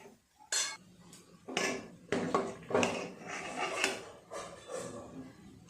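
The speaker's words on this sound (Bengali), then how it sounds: "বেশ কিছুক্ষণ ধরে টমেটোটা এইভাবে নেড়ে চেড়ে গলিয়ে নিয়েছি" Tomatoes with salt are stirred and fried in a pan for a festival khichuri, the utensil scraping and clinking against the metal in irregular bursts, close and moderately loud.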